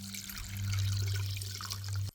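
Water pours steadily into a container to soak tamarind for a Sri Lankan dried fish dish, a close, continuous gush lasting about two seconds before stopping abruptly.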